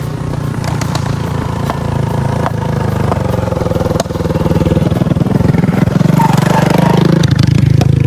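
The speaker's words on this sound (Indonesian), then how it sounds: "Nah, itu kan di belakang ada motor tuh nih." A motorcycle engine rumbles loudly and steadily nearby as it passes on a mountain trail on Mount Malabar, West Java, clattering as it runs and swelling slightly toward the end, with no voices.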